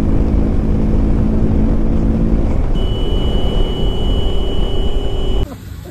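Engine of a Hero Splendor motorcycle running at steady idle, a loud close low rumble that continues unbroken before ending abruptly.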